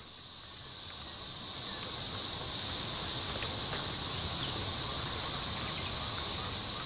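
A forest chorus of 13-year periodical cicadas forms a dense, steady high-pitched whine that swells slightly at the start and then holds, continuous and enveloping, with no voices.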